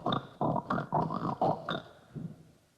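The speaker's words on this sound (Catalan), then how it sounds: "Se sentien els crits dels porcs que tenia allà al celler." Pigs in a cellar squeal and grunt as a sound effect in a stage monologue: a run of six or seven loud, close, harsh bursts in quick succession, trailing off into a quieter final grunt.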